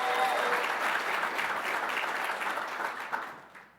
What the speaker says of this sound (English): So one more round of applause for our cohort.